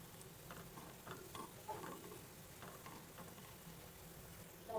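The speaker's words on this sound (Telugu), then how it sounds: "ఆయిల్లో ఈవెన్గా కాల్చుకోవాలండి, గోల్డెన్ బ్రౌన్ కలర్ వచ్చే వరకు కాల్చుకోవాలండి." Gulab jamun fry slowly in hot oil on a low flame, giving a quiet, steady sizzle with soft ticking pops and no talking.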